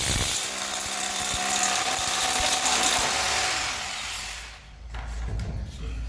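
A power tool drives screws into a drilled hole while perimeter framing is fixed during work at height, giving a loud, continuous whirring grind that dips near the end before picking up again.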